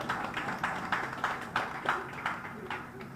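Steady, fairly faint ceremonial applause from a seated audience in a hall, rhythmic clapping with evenly spaced accents continuing throughout.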